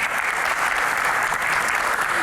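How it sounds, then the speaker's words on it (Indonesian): Studio audience applause at an Indonesian talk show, a dense, steady wash of clapping that holds loud and even for the whole stretch without pause. "Tepuk tangan dong."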